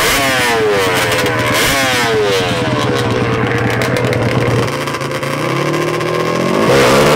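Two 100+HP ATVs, a Yamaha Banshee and a Yamaha Raptor, race side by side with extremely loud, raspy engines revving hard and climbing in pitch throughout, a brief dip in the roar before the engines surge back up.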